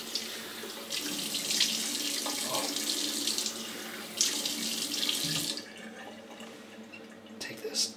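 Water runs steadily from a tap while hair is rinsed, a broad hiss that swells and shifts as the flow is broken up, easing off near the end before a brief splash.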